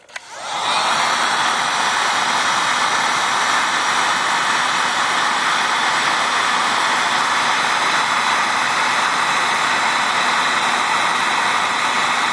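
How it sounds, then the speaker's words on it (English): A heat gun blows hot air onto the heat riser of a Willys engine, a loud, steady rushing roar that starts almost at once and holds unbroken with no voices. "Now let's take the heat gun to this one and see what happens"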